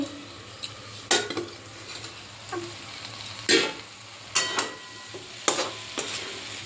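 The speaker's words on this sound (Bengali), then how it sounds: "এবার ঢাকনাটা খুলে নিচ্ছি" A metal lid comes off a pot of simmering Bengali mixed vegetables, giving several sharp clanks and clinks at irregular intervals over a faint, steady kitchen hiss.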